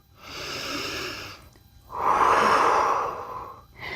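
Deep breathing during a stretch in a calisthenics workout: a slow, soft inhale followed by a longer, louder exhale through the nose and mouth, close up, with the start of another breath at the end.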